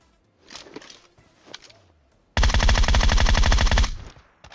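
Rapid automatic gunfire from a Groza assault rifle in PUBG, a loud sustained burst of about a second and a half following a few softer footstep-like thuds.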